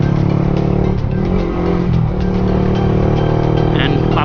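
A modified Yamaha R15 V3 motorcycle exhaust revving close by, with a loud, steady engine drone and a few small throttle dips and swells, heard alone.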